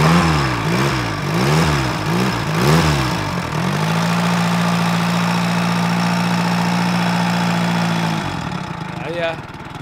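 A 750cc motorcycle engine idles close by with a steady, throbbing rumble after a few revs, under a busy outdoor summer festival background with voices.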